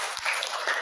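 Brief burst of crowd clapping at a school welcome session, dense and steady, at moderate loudness with no voices over it.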